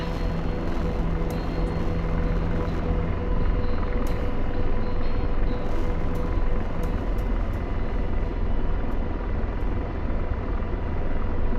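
Military helicopter flying up a valley in northeastern Afghanistan with its rotor RPM running low: a loud, steady, droning whine and thrum close by, unbroken throughout, with no voices.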